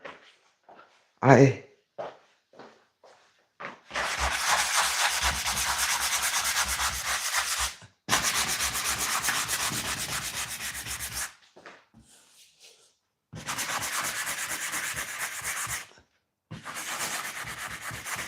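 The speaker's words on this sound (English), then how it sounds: "now me rubbing this off, it's killing my sandpaper" A person sands a wooden piece by hand with sandpaper after a second coat, making long, steady, close rasping scrubs in three or four extended bursts, with short quiet gaps and scattered knocks and handling sounds between them.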